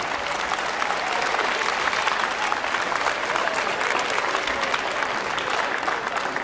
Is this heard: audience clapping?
yes